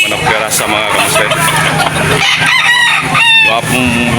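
Gamecocks bred for fighting crow loudly and repeatedly at a poultry sale, their crows ringing over steady background chatter of people and a faint engine hum.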